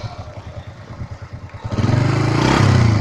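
A 1997 Honda Astrea Grand motorcycle engine idles close by with a steady rhythmic putter, then revs up and holds a louder, rougher drone for the rest of the stretch.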